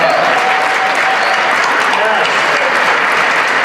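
Sustained applause from a film premiere audience at the Sundance Film Festival, dense and steady throughout, with a faint murmur of voices mixed in.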